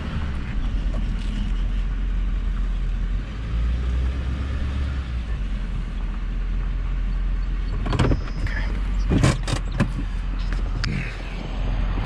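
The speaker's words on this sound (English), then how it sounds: "I tend to leave my truck running" A pickup truck idles steadily in a narrow driveway, a low continuous engine rumble running throughout, with a few brief knocks and clatters near the end.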